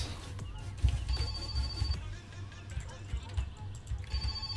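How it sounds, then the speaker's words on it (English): A telephone rings in the video game My Summer Car, with repeated bursts of a thin electronic ring heard fairly quietly alongside low thumps and handling noises, while a person talks. "Let's grab this phone call."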